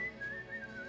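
A person whistles a thin, wavering melody on a sustained high tone, faint and alone with no talking, in a 1960 performance.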